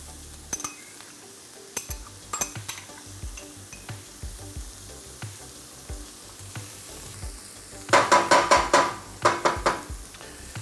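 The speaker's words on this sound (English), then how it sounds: "I'm gonna add in these marinated red peppers. I'm just gonna kind of fold those in, not stir them necessarily," Marinated red peppers folded into corn in a hot pan: a steady sizzle with scattered scrapes and knocks, then a quick burst of utensil clinks against the pan near the end.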